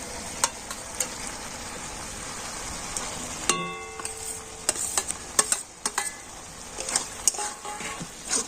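Fried pointed gourd and egg being stirred with spices and sour curd masala in a hot pan, a steady sizzle broken by sharp scraping clinks of the spatula against the pan, close and alone.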